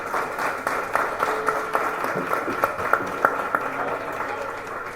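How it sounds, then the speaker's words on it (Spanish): An audience at a talk applauds in a moderate, fairly distant wash of clapping, with a few sharper individual claps standing out through the steady patter. "Un aplauso para los catedráticos, por favor."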